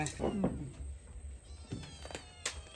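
A small kitten at a rural Thai fishing spot gives several short meows, close and fairly loud, scattered across a few seconds over light outdoor background noise.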